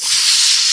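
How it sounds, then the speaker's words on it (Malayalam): Sharp, loud hiss of salted beaten chicken egg hitting a hot pan, a steady bright sizzle throughout. "ഉപ്പിട്ട് അടിച്ചു വെച്ച കോഴിമുട്ട, നമുക്ക് സൗണ്ട് കേൾക്കും ഗൈസ്."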